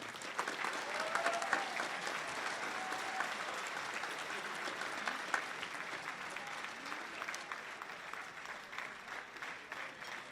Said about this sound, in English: Ladies and gentlemen, a round of applause for Mr. Bob Himmelreich.